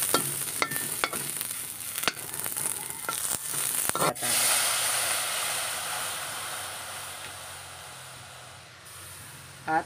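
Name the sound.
onions frying and being stirred in a pan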